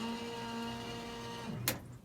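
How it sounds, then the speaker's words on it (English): On a 1970 Ford F250, the windshield washer pump gives a steady electric whine, then a brief hiss-like spurt near the end as the fluid sprays. "to engage the windshield washer, you just press on the knob"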